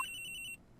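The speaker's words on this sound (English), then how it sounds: "The ring is coming from somewhere in here, sir." The victim's cell phone ringing from inside a locker in the Ace Attorney Investigations video game, a faint, rapid pulsing electronic trill lasting about half a second, with no talk over it.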